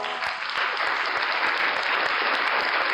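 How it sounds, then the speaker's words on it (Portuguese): Church congregation applauding during a sermon, a loud, dense and sustained burst of clapping from many people throughout. "Aplauda o Senhor."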